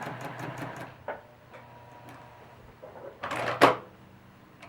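Sewing machine stitching a quilted feather runs in short bursts, a quick run of needle clatter at the start, then quieter handling clicks and a louder burst near the end, close by.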